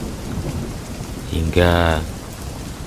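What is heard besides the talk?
heavy rain with thunder, sound effect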